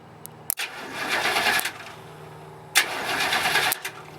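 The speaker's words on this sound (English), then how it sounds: "yep, you can see it cranks" Bone-stock demolition derby car engine cranking over on the starter in two bursts of about a second each, with a short gap between, close and fairly loud with no speech.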